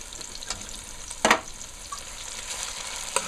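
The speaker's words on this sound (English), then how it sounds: "I'm gonna fry it a little." Chopped seasoning fries in a pan for beans and rice, giving a steady, close sizzle with a brief louder burst of stirring and a few faint clicks.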